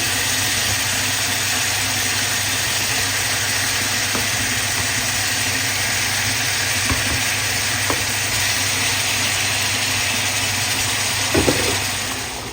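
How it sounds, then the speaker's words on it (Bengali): Fish heads fry in a pan with a Malabar spinach masala, making a loud, continuous sizzling hiss that holds steady from start to finish, with a few faint clinks near the end. "এখানে পুঁই শাকের মশলা কষাই ফেলছি এখন মাছের মাথাগুলো দিই মাথাটা কিছু কষাবো"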